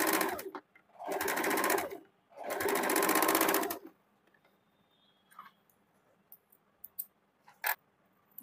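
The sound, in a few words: sewing machine stitching saree fabric in a curve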